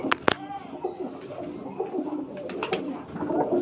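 A large flock of pigeons, including young birds kept for sale at a home, coos in low, steady, overlapping murmurs close by, with a couple of sharp knocks at the start.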